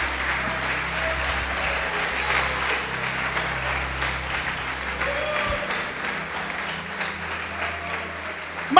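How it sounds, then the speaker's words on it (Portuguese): Church congregation applauding, a continuous wash of clapping from many hands that holds steady for several seconds, with a low organ-like hum underneath. "Pode aplaudir e glorificar o Senhor Jesus."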